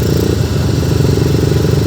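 A motorcycle engine labors steadily while climbing a steep uphill dirt road, a loud, close, rough mid-pitched drone with constant clatter and no break.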